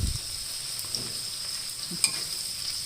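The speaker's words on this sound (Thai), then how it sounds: "เรารอให้ไข่ เอ็นี่ก่อนนะคะ ให้ไข่สุกนิดหน่อยก่อนนะคะ" Egg frying in a pan while cooking Thai stir-fried noodles with pork, a steady soft sizzle running throughout with a few small clicks and stirring taps, close and fairly quiet.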